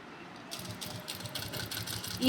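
Sewing machine running in quick, repeated bursts while stitching cloth for men's underwear, a close, moderate mechanical chatter that starts after a brief quiet moment and keeps going.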